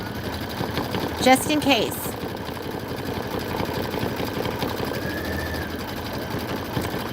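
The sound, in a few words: sewing machine stitching a pillow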